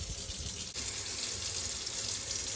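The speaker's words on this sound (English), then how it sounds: "simply bring down the handle and you'll have cold water" Water runs steadily from a kitchen sink faucet with a mixing valve, a close, continuous splashing hiss that holds constant throughout.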